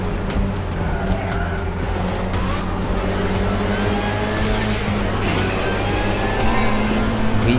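A race car engine accelerates hard through the gears in a town street race, with a loud, continuous roar of stacked harmonics that holds steady and swells slightly toward the end.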